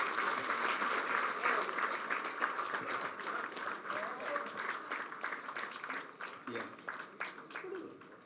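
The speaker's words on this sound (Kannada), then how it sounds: "ಬರಲಿ ಚಪ್ಪಾಳೆ." Steady applause from an audience at a film launch event, dense clapping sustained throughout and slowly thinning toward the end, heard from within the crowd with a faint murmur underneath.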